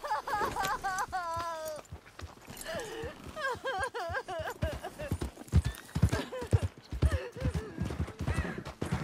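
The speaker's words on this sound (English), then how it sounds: "If you want to keep your head, you'll get down from that horse" Horse hooves clip-clop steadily in Red Dead Redemption 2, with an occasional whinny. Character voices talk over the rhythmic hoofbeats throughout.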